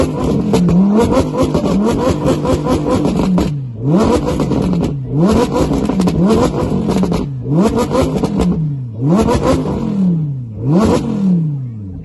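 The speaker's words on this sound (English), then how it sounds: "Launch control." An Audi R8 V10 at an import car show revs hard on launch control in five loud, repeated bursts, each rising then dropping away, with brief pauses between them.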